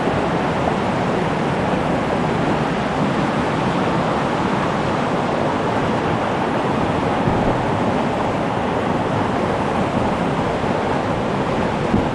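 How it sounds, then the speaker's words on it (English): Steady broadband roar of water pouring over one of several small waterfalls in Pagsanjan Gorge, Philippines, swollen after heavy rain; a constant, close rush with no voices. "we see the first of several smaller waterfalls"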